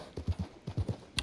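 Hooves of a Silver Bay Kentucky Saddler horse clip-clop in Red Dead Redemption 2, six clear, evenly spaced close footfalls at a walking pace, ending in a brief bright click.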